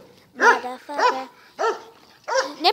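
A dog barks four times in short, loud, evenly spaced bursts close by, with brief pauses between the barks and no other sounds around them.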